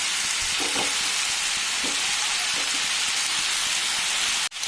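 Small pieces of chopped chicken go into a hot pan for a jackfruit, meat and soya chunk curry, sending up a steady, close, loud sizzle of frying with a few soft stirring knocks, then a brief sharp clatter near the end.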